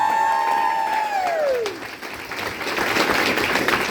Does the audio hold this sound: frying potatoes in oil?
no